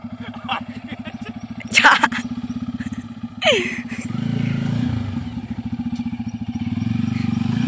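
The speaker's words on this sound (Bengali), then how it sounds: "এখন কিন্তু ফাইনালি করবো বাইক নিয়ে একটু অফরোডিং" A Bajaj Pulsar N250 motorcycle is ridden off-road through mud with a loud, throbbing engine note. It revs sharply twice, clatters, then settles into a continuous rumble as it pushes through the muck.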